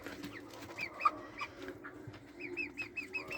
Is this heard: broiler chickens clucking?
yes